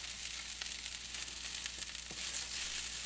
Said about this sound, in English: I've heated up a pan, and the first thing I'm going to do is cook some vegetables in some oil.